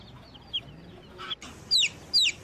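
Young chicks cheep in short, high, chirping calls, a few isolated notes followed by louder paired bursts, close and clear over a quiet background with no talk.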